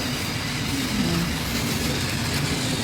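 A toy train running on its track, a steady loud mechanical rattle and hum with a faint wavering whine, no voices over it.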